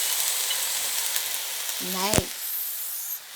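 Chow mein noodles and vegetables fry in a hot pan with a loud, steady sizzle, a brief clatter of utensils on the pan partway through, close up.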